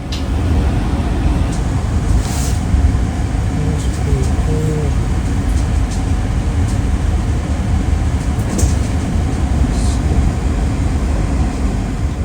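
The KA Gumarang passenger train, KA 164, runs along the track in Indonesia. A loud, continuous rumble of wheels and carriage fills the whole stretch, broken by a few faint high squeals.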